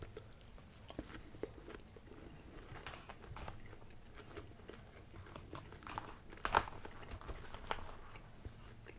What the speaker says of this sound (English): Even the broccoli still has a crunch to it.